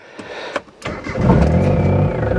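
An old Suzuki car engine cranks in a few short bursts, then catches and runs roughly, settling into a loud, steady idle close by.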